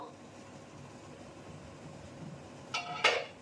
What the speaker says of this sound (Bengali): ঢাকনা তুলবো